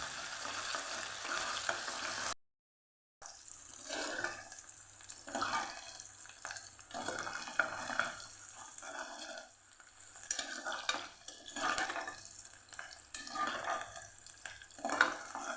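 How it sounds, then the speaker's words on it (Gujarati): Onions sauté in a pan for a Kathiyavadi white pea and potato curry, giving a steady close-up sizzle with repeated scraping stirs that stops briefly near the start before carrying on. "ડુંગળીને પહેલાં સરસ સાતડી લઈશું આપણે"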